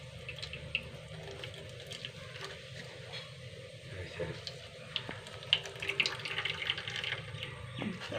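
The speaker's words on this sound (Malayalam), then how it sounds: "ഇത് പാല് പിഴിയാൻ വേണ്ടി പാല് പിഴിയാം" Milk is squeezed by hand from ground coconut, giving soft wet squelches and trickling liquid with a few small splashes, quiet and close, over faint background voices.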